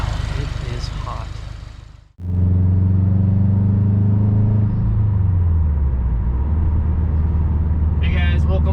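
A 2008 Subaru Forester XT Sports with a five-speed manual, out on its first drive after an engine rebuild: a loud, close cabin engine drone with a strong low hum that shifts pitch as the car moves, following an opening stretch of voice.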